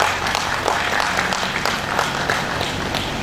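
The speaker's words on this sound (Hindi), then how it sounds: "एक बार जोरदार ताली होनी चाहिए।" An audience at a college career development program claps in sustained, dense applause, loud and even throughout with no pauses.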